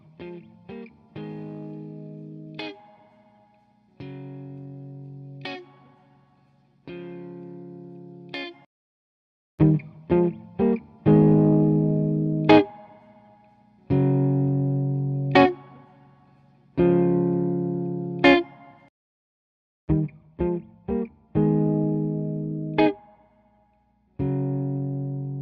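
Guitar run through only the Sugar plugin effect: chords ring out in repeated phrases, with clusters of picked notes between sustained, shimmering strums, heard solo with no voice.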